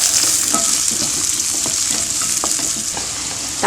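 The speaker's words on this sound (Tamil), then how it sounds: "கடுகு பொரிஞ்சதும் கருவேப்பிலை, வெங்காயம், பச்சை மிளகாய் போட்டாச்சு." Curry leaves, onion and green chili frying in hot oil after mustard seeds have popped, a steady loud sizzle with light stirring scrapes throughout.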